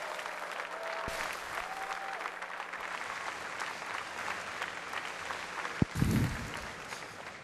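Audience applause at BlizzCon greeting the player IriS, a steady wash of clapping and crowd noise filling the hall throughout, with a brief louder burst near the end.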